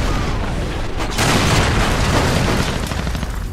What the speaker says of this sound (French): On va l'exploser